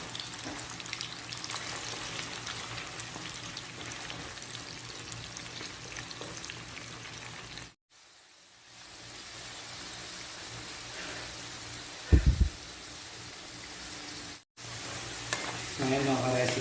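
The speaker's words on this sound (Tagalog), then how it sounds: "piprito muna natin yung ating gabi at para mas masarap sa ating apritadang lulutuin" Taro (gabi) corms frying in hot oil for chicken afritada, a steady dense sizzle and crackle running throughout with two brief dropouts and a short low clatter, no talking.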